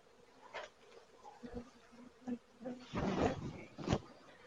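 Disturbed honeybees in a Flow Hive during an inspection, buzzing in uneven bursts that rise and fall close to the microphone, swelling louder toward the end.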